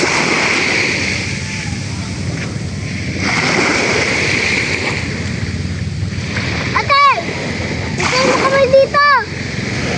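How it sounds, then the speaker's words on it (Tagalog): Calm sea waves wash gently along the shore in a soft, continuous hiss, and a person talks briefly near the end. "Ganda pong pakinggan na po ng alon ng dagat."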